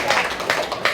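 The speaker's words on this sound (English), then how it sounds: "Clap it up here." Students clap in a middle school workshop, a scattered round of applause from a small group, close and steady for a moment.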